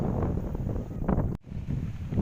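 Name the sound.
strong wind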